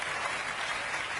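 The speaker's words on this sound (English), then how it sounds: "You're applauding pirates." Studio audience at a late-night talk show applauding, a brief, fairly faint burst of clapping heard alone.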